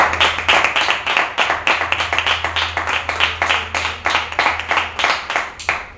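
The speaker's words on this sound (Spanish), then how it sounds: "Así que el último aplauso es para ustedes." Audience at a storytelling event applauding steadily, with dense, continuous hand-clapping that keeps an even level from start to finish and no one speaking.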